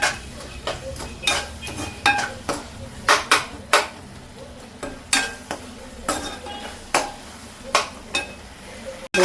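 Garlic and onions sauté in oil in a pan with a low sizzle, broken by repeated sharp metallic clinks and scrapes of a spoon against the pan in an uneven rhythm, close up.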